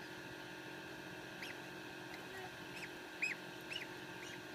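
A newly hatched gosling gives a few thin, high peeps, spaced apart and faint over a low background hum.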